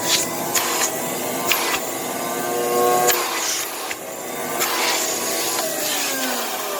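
An early Filtex tank vacuum cleaner runs continuously, a loud steady whine and rushing airflow with slight shifts in pitch and occasional knocks as it is handled.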